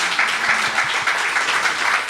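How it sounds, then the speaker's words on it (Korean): Audience clapping at a church book concert, a steady, moderately loud patter of many hands with no talk over it. "서로 격려하는 마음으로 박수치며 마무리하도록 하겠습니다"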